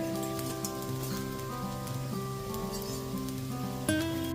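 Fish heads fry with spiced rice in a pan for Bengali muri ghonto, a soft rain-like crackle and sizzle running under steady background music, with a brief clink near the end.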